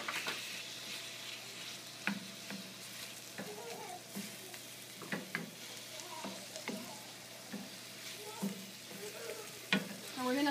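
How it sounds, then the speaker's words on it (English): Mushrooms and tomatoes sautéing in a hot pan make a steady, close sizzle, broken by sharp clicks and scrapes as the mixture is stirred at irregular moments. "Let this saute for a little bit"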